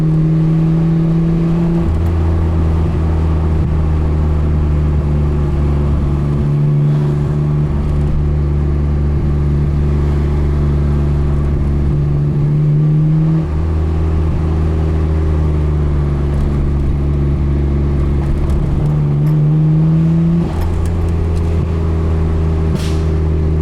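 An R32 Nissan Skyline GT-R engine idles low and steady, then revs up in several loud surges from light pedal taps, falling back between them, close by.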